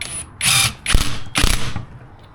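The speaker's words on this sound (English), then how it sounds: "I'm just going to tighten this down, and let's hope and pray that this bolt doesn't come undone" A ratchet tightens a bolt on a Yamaha DT 125 motorcycle during restoration work: three loud, close bursts of rapid mechanical clicking separated by brief pauses.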